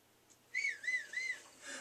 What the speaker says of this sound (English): Why are you whistling? Why are you doing that?